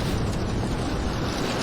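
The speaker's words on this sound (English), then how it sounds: "it just makes this noise, but it sounds like a campfire just glitched" Glitched campfire noise in the Roblox game Doors, a dense, continuous roaring crackle that is loud and unbroken through the whole stretch, with no voices.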